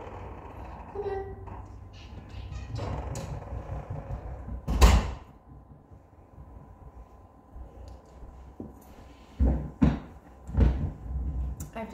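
A door is opened to let a cat in, giving a few distinct thumps and knocks near the middle and end, loud and close, over a quiet room with faint talk.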